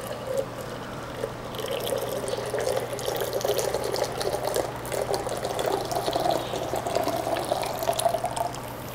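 A matcha macambo drink is frothed by pouring it from a height into a vessel, giving a steady, close splashing and bubbling liquid sound with a low hum beneath and no talk.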